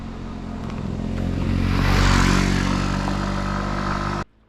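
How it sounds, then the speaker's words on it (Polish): A motor scooter engine hums steadily, swelling as it passes close by and then cutting off abruptly near the end. "I znowu skuter jedzie."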